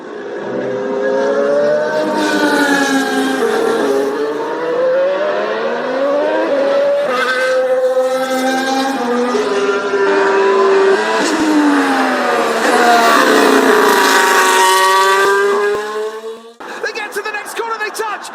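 Formula 1 cars at the start of a Lego recreation of the 2022 Sao Paulo Grand Prix: loud, continuous engine whine rising and falling in pitch, layered from several cars, then cutting off abruptly near the end.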